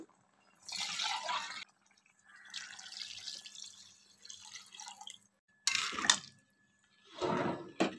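About two cups of water poured into a cooking pot for a rice dish, heard as several separate splashing pours and trickles with short pauses between them, moderately close and fairly quiet.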